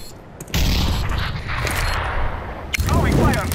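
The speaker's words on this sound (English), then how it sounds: "I'm throwing a grenade." Grenade blast and gunfire during a Counter-Strike round on Dust2: a sudden loud burst opens a sustained, roaring wash of noise. Scattered shots crackle through it, with a voice talking near the end.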